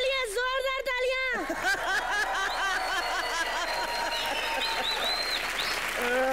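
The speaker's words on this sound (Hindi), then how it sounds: "चलिए हमारी हीरोइना के लिए जोरदार तालियां।" A television comedy show's studio audience bursts into loud, sustained applause for the heroine, mixed with chuckles and laughter, following a brief tonal voice or music passage at the start.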